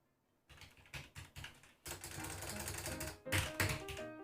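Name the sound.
typing on a computer keyboard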